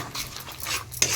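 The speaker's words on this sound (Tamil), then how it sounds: "கலக்கி விட்டுறலாம்." A spoon stirs turmeric powder into an Odisha-style mushroom and fish curry in a pan, with soft scraping and faint rustling strokes plus a brief metallic clink near the end, no voices.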